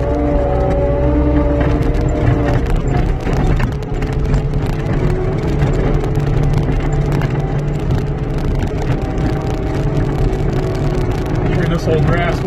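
A Cat 289 skid steer runs in second gear over frozen grass ground, its steady diesel engine droning close throughout with rattles and clanks, while someone talks over the noise.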